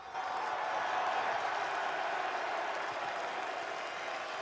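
A capacity football crowd of 8,000 welcoming Sutton United onto the pitch for an FA Cup tie against Coventry, a sustained roar of cheering and applause at a steady, loud level.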